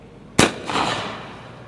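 A single sharp gunshot rings out from a gun brought from half cock to full cock, one loud crack followed by a short decaying echo.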